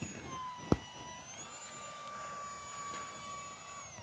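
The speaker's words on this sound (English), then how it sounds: "the EDF even sounds good" A small 30mm electric ducted fan powers an RC F-86 Sabre model jet. It gives a steady, thin high-pitched whine that holds a fairly constant tone in the distance, with a brief sharp knock near the start.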